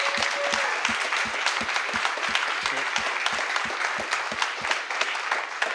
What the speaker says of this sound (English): I'd like to give a big round of applause to Dustin.